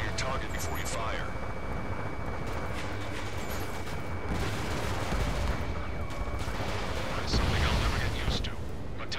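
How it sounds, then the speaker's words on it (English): Bursts of gunfire crackle over a dense, rumbling Ace Combat 7 soundscape with roaring jets, steady and loud throughout, with voices faintly mixed in. "gunfire and the roar of jets echoing through the streets"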